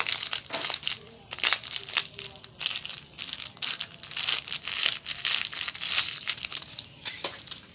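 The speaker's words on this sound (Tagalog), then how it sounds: "Atong dabuko ning Skyflix guys." Skyflakes crackers are crushed by hand for a cooking pot, giving a steady run of close, dry crinkling crunches in rapid irregular bursts, with no voices.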